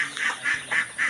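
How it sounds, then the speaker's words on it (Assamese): Ducks give four evenly spaced, nasal quacks in quick succession, close by and clear with no talking. "আৰু এইপিনে হাঁহ পলাই গৈ আছে আহিছে চব"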